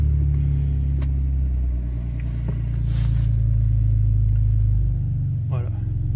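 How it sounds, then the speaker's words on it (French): A BMW E46 running on E85 fuel settles into a steady, low engine rumble, holding a smooth idle throughout with only slight swells in loudness. "deuxième coup de clé, ça part nickel"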